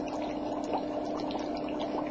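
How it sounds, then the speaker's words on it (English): Pieces of dry ice dropped into a cup of water set off a steady, dense hiss of fizzing and bubbling that holds at an even level throughout, with no talk. "Let me take another few pieces of dry ice and put them in."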